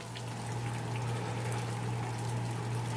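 Sparge water and wort run through home beer-brewing gear, a steady continuous pour and trickle with a low pump-like hum underneath, constant and close.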